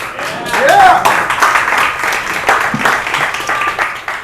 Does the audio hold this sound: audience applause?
yes